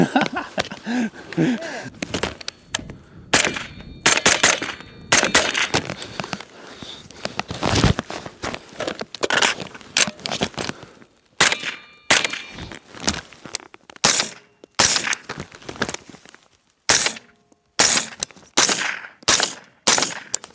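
Rifle fitted with a QD-mounted suppressor firing outdoors, a long run of sharp, loud muffled cracks, some single and some in quick bursts, spaced irregularly across the stretch with little talk.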